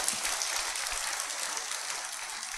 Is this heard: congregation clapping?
yes